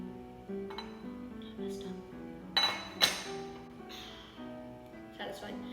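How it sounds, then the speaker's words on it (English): A pot lid is set on top of a bowl of sticky rice with coconut sauce, giving a couple of sharp clinks. A voice talks throughout. "I'm gonna take a pot lid, place that right on top"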